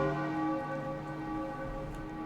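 A bell tolls in a video game, a sustained ringing tone with rich overtones that rings and slowly fades, clear and fairly loud, with no talking over it.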